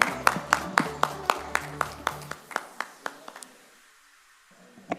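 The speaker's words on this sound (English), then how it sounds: "A round of applause for Dinesh ji" A small audience giving Dinesh ji a brief round of applause at a chapter session: sparse, regular claps close by, a dozen or so sharp hits slowing and fading out within a few seconds.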